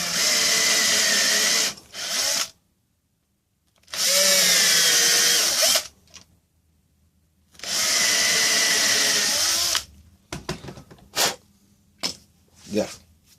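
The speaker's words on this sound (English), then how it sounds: "Then you're going to drill your 3 little holes." A power drill boring three small holes in wood while building a mouse trap: three loud, steady whirring bursts separated by pauses, followed by a few short clicks and clatters of handling.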